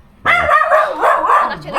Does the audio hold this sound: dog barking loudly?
yes